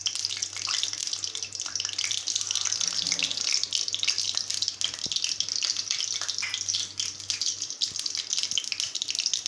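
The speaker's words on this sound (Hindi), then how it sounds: "अब इसमें थोड़ा सा पानी भी डालेंगे" Water pours steadily from a container onto sugar in a cooking pan while making halwa, a continuous close splashing stream lasting several seconds, with no talk over it.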